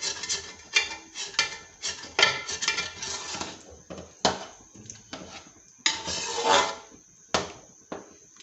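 A spoon scrapes cooked carrot halwa off the sides of a pan, giving repeated sharp metallic scrapes and clinks in an irregular rhythm, close and fairly clear with quiet gaps between strokes.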